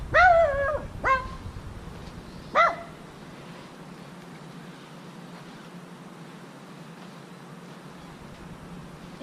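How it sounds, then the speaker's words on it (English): A neighbor's dog lets out a few sharp barks at the start, a quick single bark, then another bark a couple of seconds later, fairly near, followed by quiet outdoor background. "the neighbor dog is barking"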